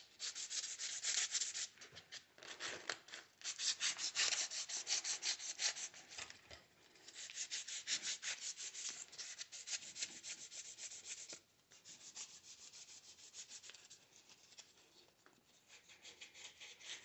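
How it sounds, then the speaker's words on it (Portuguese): Fine sandpaper rubbing a starter motor commutator from a Chevrolet Monza or Kadett, a continuous rapid scratchy back-and-forth scrubbing, close and fairly soft, with brief pauses and no talking. "eu vou dar mais uma lixadinha aqui para deixar isso aqui bem polidinho. Uma lixa bem fininha aqui"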